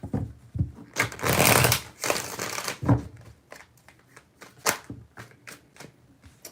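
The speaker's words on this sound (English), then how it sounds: "3 shuffles." Tarot cards being shuffled by hand, a series of riffling, papery bursts with short pauses between them, close and fairly loud, the longest run near the start followed by quicker taps and flicks.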